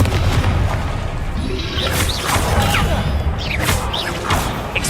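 Fiery spell blasts in the Hogwarts Legacy game, loud booming explosions with whooshing bursts layered over a constant roar of combat, with a couple of sharp swishes partway through.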